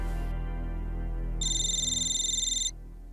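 A phone rings once with a bright electronic trill lasting over a second, with a steady low hum beneath and no one speaking.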